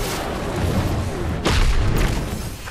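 Gunfire in Fortnite, a zero-build ranked solo match: a few heavy, booming shots with a rumbling tail, one louder burst midway, with no talking.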